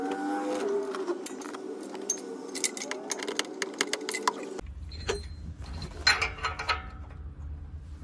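Metallic clinking and rattling of a ratchet and O2 sensor socket being handled and fitted on a Ford E150 van, with a low engine-like hum in the background and a series of close, irregular clicks and clanks.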